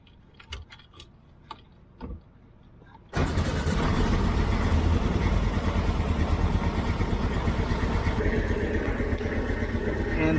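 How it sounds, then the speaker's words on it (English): A 1967 VW Type 3 Squareback engine starts after a few faint clicks and ticks, then settles into a loud, steady idle with an even, rapid rhythmic chug that keeps running to the end. "So now the engine running on idle"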